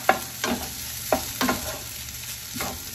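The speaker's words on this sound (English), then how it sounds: "Now I'm using the wood spatulas because it's more heavy than the other one" A wooden spatula stir-fries purple curry shrimp fried rice in a shallow pan, with about five rhythmic scraping strokes over a steady, close sizzle.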